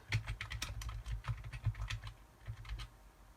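Close, quick typing on a computer keyboard while entering data into a spreadsheet, an irregular run of crisp key clicks and thumps for a few seconds with no voices.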